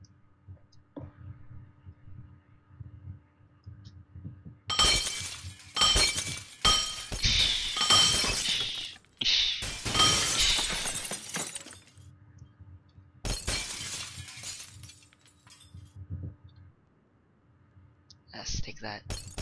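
Glass shatters repeatedly in the video game Happy Wheels, loud crashing bursts clustered in the middle with clattering debris, mixed with game noises and a faint hum.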